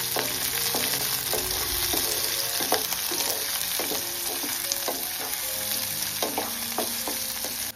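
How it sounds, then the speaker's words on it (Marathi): Chopped onion fries in hot oil in a pan, a continuous bright sizzle punctuated by frequent scraping and clinking taps of a spoon as it is stirred, close and steady. "चला आता कांदा टाकून घेऊ. मस्त परतून घ्यायचं आपल्याला."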